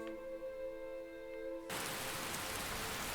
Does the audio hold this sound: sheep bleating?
no